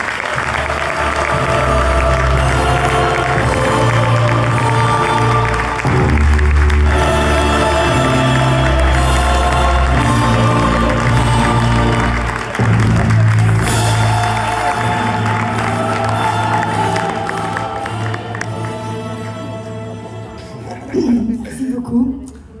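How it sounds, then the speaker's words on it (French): A gala audience at the Skal Côte d'Azur 90th anniversary in the Hôtel Martinez, Cannes, applauds loudly and continuously, with cheers and a few whoops, over loud music lasting most of the stretch. "je vous demande de faire un tonnerre d'applaudissements"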